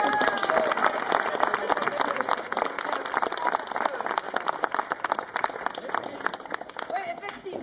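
An audience at an evening astronomy event in Mouscron gives a dense round of clapping that runs steadily from start to finish. The applause is near and lively, with some voices mixed in underneath.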